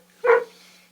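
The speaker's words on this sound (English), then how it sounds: "if you can hear the dogs, I don't know what they're barking at." A single short bark from a dog bursts out once, fairly close and clear, then fades, leaving a quiet steady hum in an otherwise still room.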